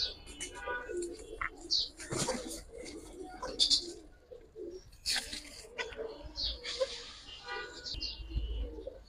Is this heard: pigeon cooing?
yes